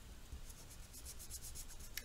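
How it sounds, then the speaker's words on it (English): Eraser rubbing out pencil construction lines on paper during a two-point perspective stair drawing, a quiet, steady scrubbing texture with soft repeated strokes and no talking. "And we can erase these."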